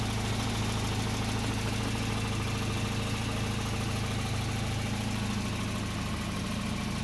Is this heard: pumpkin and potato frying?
no